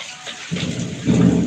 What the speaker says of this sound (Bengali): বৃষ্টি পড়তেছে তুফান আমার কথা মনে আপনারা শুনতে পারছেন না অনেক বৃষ্টি হচ্ছে প্রচুর